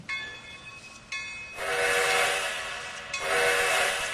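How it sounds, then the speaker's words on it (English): A C&O train in Trainz 2019 rolls out near Hinton, with steady loud rumbling and a long whistle or horn blast that sounds twice, fairly close and without speech. "Stand next to Mr. Jasper Peabody as he watches the train roll out."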